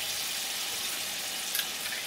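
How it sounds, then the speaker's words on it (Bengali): Spice paste for a Bengali yogurt prawn curry (doi chingri) frying in oil in a pan, a steady bright sizzle with a couple of faint pops. "এখন এই মশলাটাকে ভালো করে একটু কষিয়ে নিচ্ছি"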